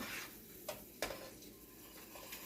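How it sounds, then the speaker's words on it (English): A spoon stirs clear sugar syrup for divinity candy in a pot, giving a soft steady swish with two faint clinks against the pan, quiet and close. "Our syrup is clear now. Let me just stir it."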